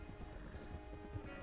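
Horse hooves clop in Red Dead Redemption 2, a quiet run of soft, rhythmic thuds over low background game noise.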